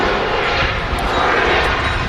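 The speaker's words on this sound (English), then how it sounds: "the 737-800s are definitely the noisiest of the aircraft I hear going overhead at home" A Jet2 Boeing 737-800 airliner flies overhead near Manchester Airport, a loud steady jet roar that fills the whole moment, with no talking.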